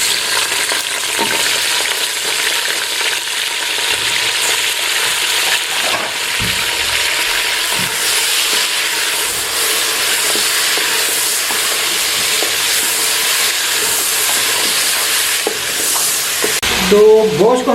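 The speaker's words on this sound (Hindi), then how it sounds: "तो गोश्त को हमने 2 मिनट के लिए भूना है।" Meat sizzles in a karahi with browned onions and spices: a loud, continuous hissing fry with scraping stir sounds throughout, and a brief clatter near the end.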